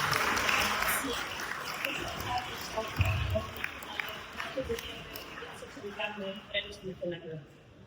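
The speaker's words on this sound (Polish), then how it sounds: "szczególnie rodziców proszę o brawa dla wszystkich" Parents and guests applaud participants at the closing ceremony of an international chess memorial tournament in Racibórz. The clapping starts full and then thins into scattered claps, with talking in the room throughout.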